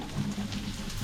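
Onions sizzling in a pan on low heat while cooking for crispy fried pork, a steady close crackle with no voices.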